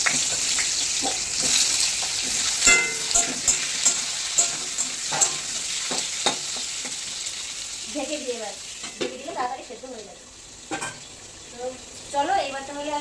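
Potatoes sizzling and frying in a pan, with scraping stirs and clatters; a voice speaks briefly near the end.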